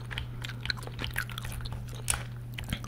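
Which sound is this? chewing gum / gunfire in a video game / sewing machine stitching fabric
chewing gum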